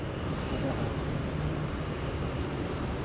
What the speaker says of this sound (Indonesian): Ini drone punya siapa ini?